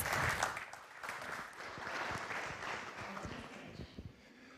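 Audience applause at a Speedway World Championships conference as the FIM president is welcomed onto the stage: a steady, fairly close wash of clapping that continues for several seconds and eases slightly toward the end.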